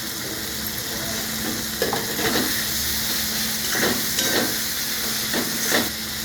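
Chickpea and egg curry with kasuri methi sizzles and fries in a pan, a loud steady hiss with several short scraping stirs across it.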